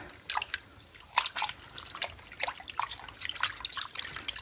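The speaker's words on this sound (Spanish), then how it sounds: "Ahora le echamos un poco más de agua porque como es para aclararlo" Water is poured over a crocheted Irish-lace purse during rinsing, making faint, irregular splashing and trickling sounds with drip-like bursts, quiet and close, with no talk.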